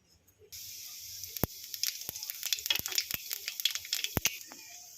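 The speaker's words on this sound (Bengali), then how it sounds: "কড়াই তেলটাও প্রায় গরম হয়ে গেছে ফোড়নে একটু কালো জিরে দিয়ে দিচ্ছি" Black cumin seeds sizzling in hot oil in a wok: a sudden hiss as they drop in, followed by a continuous sizzle dotted with many sharp, irregular pops and crackles, close and clear.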